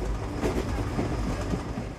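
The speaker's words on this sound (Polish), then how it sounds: "Ken wsiadł jednak w pociąg i ruszył do Vancouver" Train rolls along the rails with a low, continuous rumble and faint rhythmic clacking of wheels, steady and moderately quiet with no voices.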